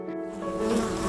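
Bees buzz inside a viewing corridor of a beekeeping display on the Isle of Man, a close, loud, continuous droning hum that swells slightly over a brief moment.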